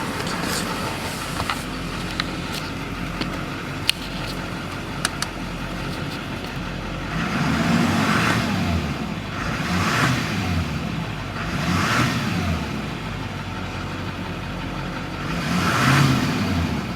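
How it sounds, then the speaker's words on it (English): A 2004 Chevrolet-style pickup with an LLY Duramax diesel engine idles with a low rumble, then is revved several times, each rev swelling and falling in a repeated pattern of throaty bursts, close and loud with no talking. "We'll give it some revs here"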